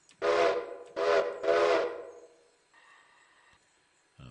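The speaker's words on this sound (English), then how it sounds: "You're going to blow the whistle 3 times, let them know you're going to back up" Steam locomotive whistle in the train game Railroader, three loud, close blasts in quick succession with a breathy, chime-like tone, followed by a quieter hissing tone and a faint knock.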